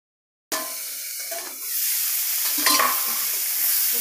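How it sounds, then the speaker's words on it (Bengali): Cauliflower pieces fry in hot oil in a pan, giving a loud, continuous hiss and sizzle that starts abruptly, with scraping stirs partway through. "ফুলকপিগুলো আমি একটু ভালো করে ভেজে নেব"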